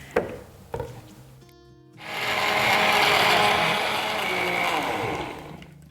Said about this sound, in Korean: 자, 한번 갈아 보겠습니다.